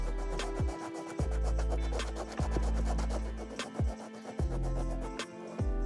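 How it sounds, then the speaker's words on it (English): A rubber eraser scrubs dirty suede on a sneaker in steady, repeated strokes, a close, dry rasping that rises and falls with each pass in different directions. "you want to rub gently onto the dirty suede in all different directions"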